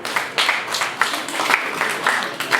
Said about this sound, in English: let us clap for her.